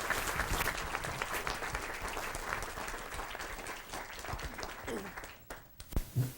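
Applause from a school board meeting audience honoring primary school Students of the Month, a steady dense clapping that fades out near the end with a few scattered claps.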